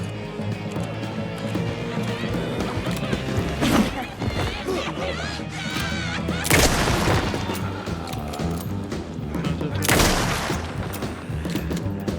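Gunfire in the Alan Wake 2 video game, with several bursts and booming shots standing out against a steady bed of game sound and music, with the loudest blasts around the middle and near the end.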